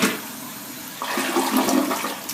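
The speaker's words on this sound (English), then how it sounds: "Let's give it a test flush for performance." A Delta Corrente toilet gives a short, powerful test flush, a close rush of water that swells midway and fades, with no talking.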